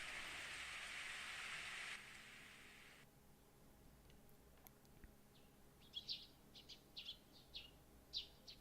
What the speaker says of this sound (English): The rain grows stronger over time, eventually becoming a thunderstorm.